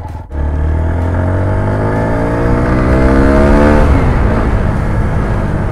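A TVS Apache 160 4V motorcycle engine turns over and catches, then idles loud and close before being revved up and down, its pitch climbing and falling in steady sweeps.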